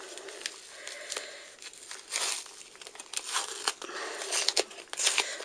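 Sticky backing is peeled and pulled off needle lace, giving close, quiet crinkling and tearing rustles in irregular bursts with a few sharper crackles.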